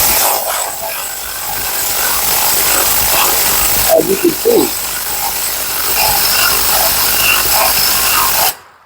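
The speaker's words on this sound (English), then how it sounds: "I can just use my drill to raise and lower it." A loud cordless drill whirs continuously, close up, driving a trailer jack steadily; someone speaks briefly over it midway before it stops abruptly.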